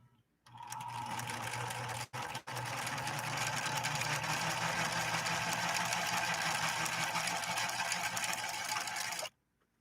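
A Viking 3600 sewing machine runs a steady stitching drone at close range for about nine seconds, with a brief stop and restart near the start, and no voices over it.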